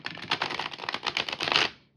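A Heart and Hands tarot deck of good-quality semi-gloss cardstock is shuffled by hand, giving a close, continuous crisp riffling flutter that stops cleanly after about a second and a half.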